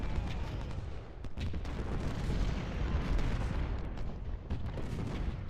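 Continuous artillery fire rumbles through a Civil War battle in the video game Ultimate General: Civil War, with dense, overlapping booms and crackling volleys at moderate distance, heard alone without talk.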